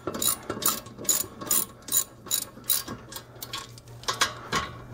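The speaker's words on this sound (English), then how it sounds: "go ahead, ratchet them down" Ratchet driving brake caliper bolts on a 1999–2005 Lexus IS300 during a front brake job, a string of rapid clicking bursts in quick rhythm, close and fairly loud with a faint steady hum beneath.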